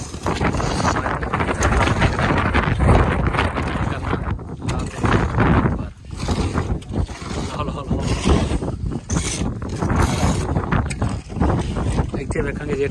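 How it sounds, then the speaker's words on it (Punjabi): Strong wind gusts buffet the microphone at an outdoor construction site where a tin roof is being fitted, roaring loudly and steadily throughout with brief lulls, under scattered talk. "ਹਵਾ ਬੜੀ ਤੇਜ਼ ਚੱਲਣ ਡਈ ਅੱਜ"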